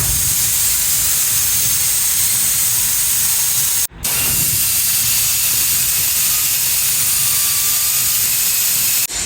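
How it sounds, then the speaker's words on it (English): Right angle die grinder fitted with a flap wheel, scouring rust out of holes in a CMC 83HD spider lift outrigger lock pin mount; a loud, steady, hissing grind runs the whole time, broken by one brief cut-off midway. "take our handy dandy right angle die grinder with flap wheel and clean all the rust"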